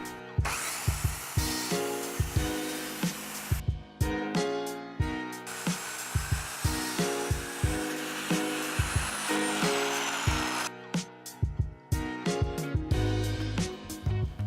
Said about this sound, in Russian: И теперь попробуем пилить под углом.